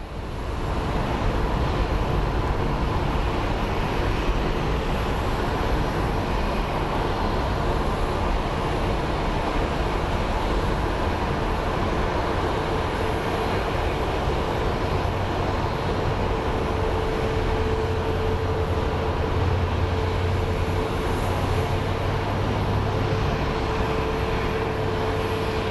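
MD airliner coming in to land at Sky Harbor International Airport, a loud, continuous jet engine roar held steady throughout, with a faint low tone emerging in the second half.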